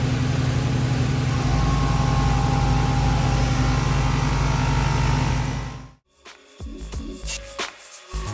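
An old modified air compressor pump runs steadily while filling a tire, a loud continuous motorized drone with a low hum that cuts off abruptly near the end, followed by clattering handling noises.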